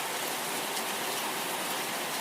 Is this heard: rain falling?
yes